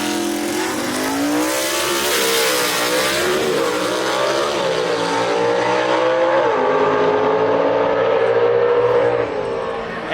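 Gasser race cars launching side by side at Brainerd Motorsports Park drag strip, loud raw engines revving hard and climbing in pitch through gear changes, close and continuous throughout.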